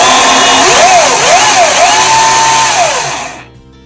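A Milwaukee M18 top handle chainsaw runs loud and close, its motor whining up and down in pitch several times before settling and then cutting off near the end.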